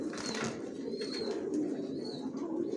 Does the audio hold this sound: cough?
no